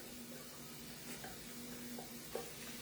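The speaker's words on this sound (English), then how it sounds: "we're just going to break all these onions in and get them sizzling" Onions for chili sizzle quietly in hot oil, a soft steady crackle with a faint hum underneath and an occasional small pop or clink.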